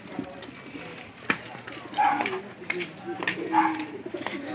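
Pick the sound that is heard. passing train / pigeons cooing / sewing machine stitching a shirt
pigeons cooing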